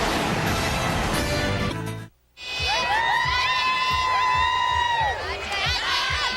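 A packed stadium crowd of LSU Tiger football fans cheers through a 2003 home game against Mississippi State, a steady roar with a brass band melody ringing over it and a brief lull near the middle.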